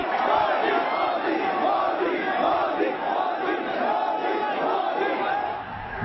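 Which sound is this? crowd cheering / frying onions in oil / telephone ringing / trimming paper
crowd cheering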